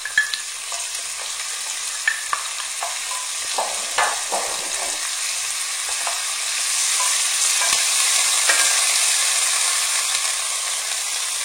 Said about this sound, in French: je vais faire revenir dans de l'huile, des oignons émincés, avec du persil et de la coriandre hachée